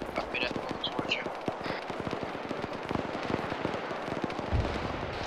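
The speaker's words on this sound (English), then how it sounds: "There's shots right up in front of me." Rapid gunfire from an ArmA 3 military firefight crackles throughout as dense, sharp reports, some close and some distant, mixed with radio chatter and talk.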